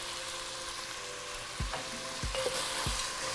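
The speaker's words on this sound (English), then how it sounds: "we're going to fry them for 5 minutes or until our fideos are nice and golden" Fideo noodles frying in a pan, a soft continuous sizzle with three sharp scraping or tapping hits from stirring toward the end, close but fairly quiet.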